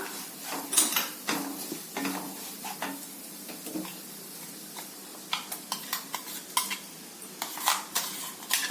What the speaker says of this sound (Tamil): இப்போ நம்ம அரைச்சி வச்ச சட்னியை இதில் எடுத்து ஆட் பண்ணிடலாம்.